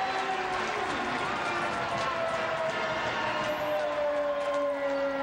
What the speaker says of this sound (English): the Kentucky fans still here at the stadium applauding the pass play from Bonner to Whalen